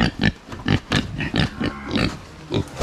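Pigs and piglets on a Philippine farm oink and grunt in a run of about six loud, close, rhythmic bursts, with no talking.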